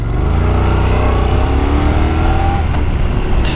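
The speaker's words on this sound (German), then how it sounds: "das Erste, was einem sofort auffällt, mir zumindest, ist dieser kernige Klang von dem Rhein-Twin" Honda NC 750 X parallel-twin motorcycle engine pulling away, a loud, steady, gruff drone that rises slightly in pitch as the bike gathers speed, heard close without talk.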